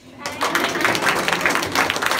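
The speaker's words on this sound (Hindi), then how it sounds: "ताली बजाओ" Students at an adolescence education programme in an intermediate college in Motipur, Azamgarh clap together after being thanked, a steady, dense patter of many hands with a few voices mixed in.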